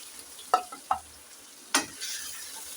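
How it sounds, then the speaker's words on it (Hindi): Fried eggplant pieces lifted out of hot oil with the flame switched off, giving a quiet sizzle punctuated by three sharp utensil clinks and scrapes, with a brief hiss of oil afterward. "फ्लेम को ऑफ करते हैं और बैंगन को निकालते हैं"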